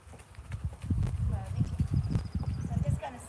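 A mare's hooves clip-clop in a quick, uneven rhythm as she is ridden and pushed toward a canter, close and moderately loud, with a rider talking over the hoofbeats.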